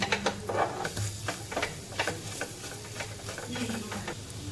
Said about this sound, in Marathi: चण्याचं पीठ आणि हे पुन्हा एकजीव होईपर्यंत त्याला पण परतून घ्यायचं